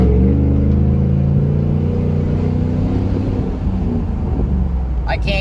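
Loud, steady engine drone of a 2018 Chevrolet Silverado with a muffler delete as it accelerates over a bridge, filling the clip, with a brief sharper sound near the end.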